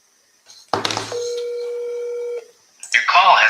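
A phone call is placed to a seller on a mobile: a brief electronic tone, then a steady sustained tone like a dial or ringback signal, followed by the start of a recorded voice.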